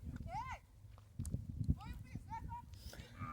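A ridden horse walks on a rural farm, its hooves making an uneven, soft clip-clop close by, mixed with faint higher calls and chirps in the background.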